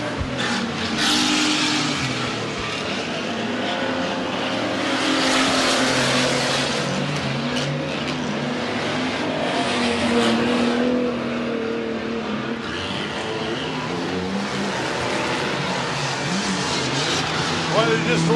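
Race cars at a stock car meeting roar around the track in a continuous, loud engine drone with revving swells, under an excited commentator talking throughout.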